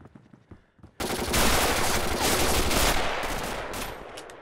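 Gunfire rips through a Red Orchestra Ostfront match, a sudden loud burst of rapid automatic shots that breaks in after a quieter moment and keeps rattling densely for several seconds.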